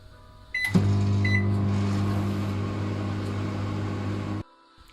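A microwave oven melting dark chocolate runs with a steady low hum for about four seconds after a door clunk and start beep, then cuts off abruptly, close and moderately loud.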